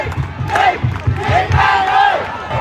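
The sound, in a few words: football crowd cheering and chanting in stadium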